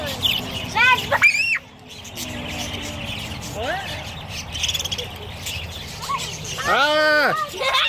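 Budgies at a zoo aviary chirp in quick, close bursts of bright tweets scattered over several seconds, amid outdoor background noise and people talking.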